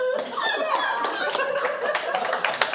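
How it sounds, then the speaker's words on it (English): Audience applause at a comedy roast battle show, a steady patter of many hands clapping mixed with voices and scattered laughter, fairly close and continuous throughout. "Are people clapping?"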